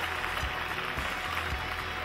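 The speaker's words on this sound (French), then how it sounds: "On les applaudit très fort, s'il vous plaît." Audience clapping at an award ceremony for a boules masters tournament, a fairly full burst of applause held steady for a couple of seconds, with some low thumps beneath it.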